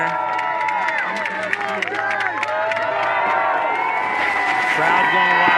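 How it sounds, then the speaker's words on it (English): Spectators at a para snowboard banked slalom final cheer, clap and shout loudly for a rider, the din swelling toward the end under a commentator's voice. "Crowd going wild over James."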